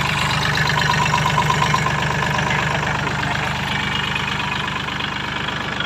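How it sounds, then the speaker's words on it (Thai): A farm tractor engine idles steadily up close, a constant low, slightly knocking diesel chug with no pauses or speech over it. "ดูเครื่องยนต์นะครับ"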